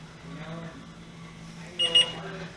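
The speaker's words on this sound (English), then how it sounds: "hold it down till you hear 2 beeps" Two short high-pitched beeps from the set limit button on a Polaris actuator control board, close and clear, heard near the end over a steady low hum with faint talk.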